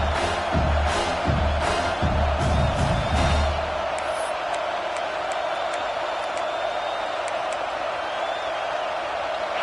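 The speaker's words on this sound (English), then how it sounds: "how nice is it to have the home crowd going absolutely bananas?" A home crowd at a college football game roars loudly and steadily for about ten seconds, a dense wall of cheering with scattered whistles and thumps in the first few seconds.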